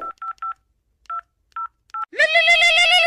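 A phone keypad beeps out a number in short, irregularly spaced tones, followed by a louder, sustained buzzy tone at the end.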